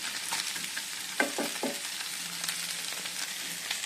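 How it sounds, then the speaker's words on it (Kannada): Okra pieces sizzle steadily in hot oil, a dense crackling hiss with a few soft stirring knocks near the start, close and continuous with no voices. "ಎಣ್ಣೆ ಕಾದ ನಂತರ ಬೆಂಡೆಕಾಯಿ ಹಾಕೊಳ್ಳಿ. ಇವಾಗ ಇದು ಚೆನ್ನಾಗಿ ಬಾಡೋಬೇಕು."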